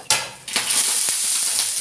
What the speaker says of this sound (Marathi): आणि मग आता हा डोश्याचं बॅटर सोडते मी।